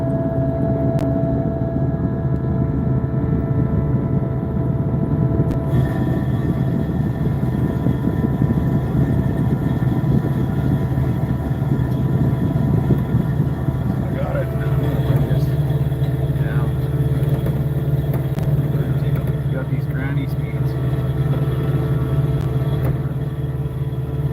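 A small aircraft engine runs steadily at 2200 RPM, a loud, even drone with a constant low rumble and hum throughout, with no breaks.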